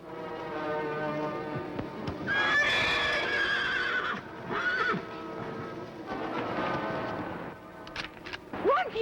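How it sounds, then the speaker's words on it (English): A horse neighs loudly with repeated shrill whinnies while hooves clatter and stamp close by, over a busy background. "That horse is a killer!"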